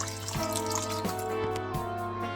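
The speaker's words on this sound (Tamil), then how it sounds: "அரிசியை நல்லா கழுவி எடுத்துட்டேன்." Water drips and splashes in a kitchen while rice is washed for Jaffna-style odiyal kool: irregular close taps and trickles, fairly quiet and continuous, with no talking.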